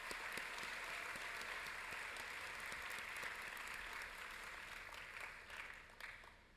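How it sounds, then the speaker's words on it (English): Applause from a first-year orientation audience after a student performance, a steady, somewhat distant round of clapping that holds for several seconds and then tapers slightly at the end. "Can we give another round of applause?"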